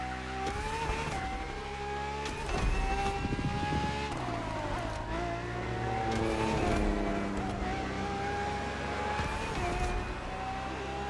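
Ferrari FXXK V12 engine in the racing game The Crew Motorfest revs hard and loud, rising and dropping in pitch through gear changes with brief tire squeal, continuous and close with no talk.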